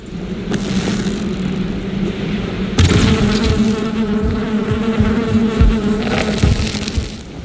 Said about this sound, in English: Collecting a queen bee on a small island with a house.